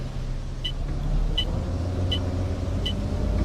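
A Scania C400R bus engine in OMSI 2 idles with a steady low drone, while a faint tick repeats at an even rhythm over it.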